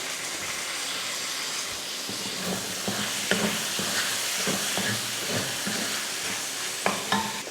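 Tomatoes and dal sauté in a hot pan for an egg curry, giving a constant loud sizzle with the scrape and tap of a spoon stirring now and then.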